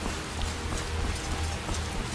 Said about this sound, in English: Ah, it's just rain.